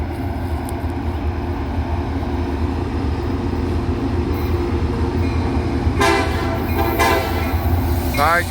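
Diesel locomotive hauling a DKPX coal train passes close by with a steady, loud rumble of wheels and engine, and a horn-like tone sounds near the end.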